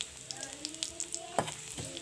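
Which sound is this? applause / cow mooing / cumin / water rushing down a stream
cumin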